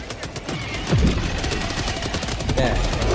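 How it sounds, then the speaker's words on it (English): Rapid volleys of explosions and gunfire from an orbital strike in the video game Helldivers 2, dense overlapping blasts and booms that keep rolling without a break. "Requesting orbital strike!"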